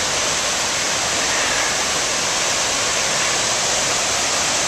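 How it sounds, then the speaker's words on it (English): Curtain Falls roars with high seasonal water, a loud, dense, unbroken rush of falling water filling the whole scene up close, with no voices. "It's roaring with all the high water this year."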